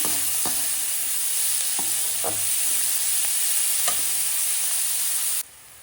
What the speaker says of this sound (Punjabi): ਬਰੀਕ ਚੌਪ ਕੀਤਾ ਹੋਇਆ ਪਿਆਜ਼ ਭੁੰਨਾਂਗੇ ਪਹਿਲਾਂ ਅਸੀਂ